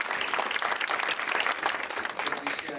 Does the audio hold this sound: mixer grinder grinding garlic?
no